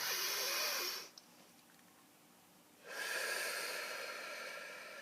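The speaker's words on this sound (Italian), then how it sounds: "Tiriamo un bel respiro profondo." A deep breath drawn in before speaking, a loud nasal inhale at the start followed by a long exhale, heard close and alone with no talk.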